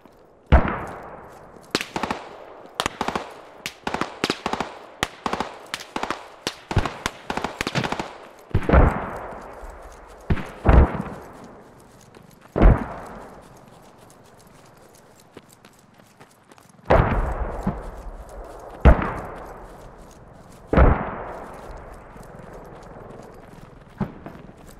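Gunfire in the video game Squad: rapid automatic bursts at first, then spaced single heavy shots with long ringing decays, loud and close, with no talk over it.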